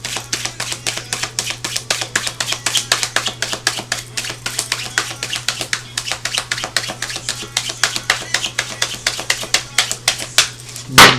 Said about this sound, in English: me shuffling my cards